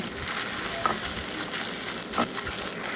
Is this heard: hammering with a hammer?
no